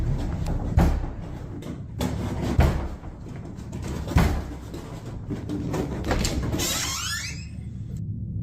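Several loud, sharp wooden bangs of a door being slammed shut, spaced about every second or two, with a fainter sliding rattle near the end of the sequence.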